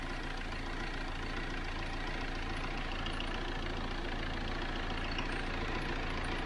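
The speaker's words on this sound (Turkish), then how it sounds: "Allah'ın izniyle aracımız da çalıştı arkadaşlar." A Ford Custom 2.2 diesel engine idles steadily after starting, following a timing chain replacement at 220,000 km. It gives an even, continuous rumble close by, with no talking.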